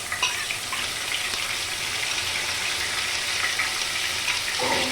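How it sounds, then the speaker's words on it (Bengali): Garlic paste hits hot oil in a pan, giving a steady, loud, broad sizzle that holds evenly throughout with no talking over it. "তেলটা গরম হলে এই যে বাকি যে রসুন বাটাটা ছিল, এই রসুন বাটাটা দিয়ে দিচ্ছি"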